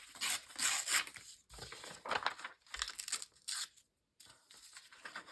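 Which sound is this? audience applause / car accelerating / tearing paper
tearing paper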